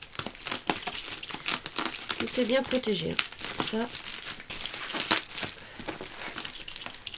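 Crinkling and crumpling of parcel packaging with sharp bursts of tape tearing, close to the microphone, while a person talks over it.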